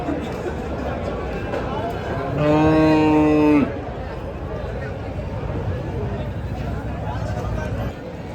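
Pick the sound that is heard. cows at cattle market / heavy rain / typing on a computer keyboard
cows at cattle market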